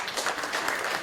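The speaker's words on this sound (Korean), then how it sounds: "큰 박수 부탁드립니다" An audience at a forum on electromagnetic wave safety gives a short burst of soft applause. The clapping is fairly faint and sounds slightly distant.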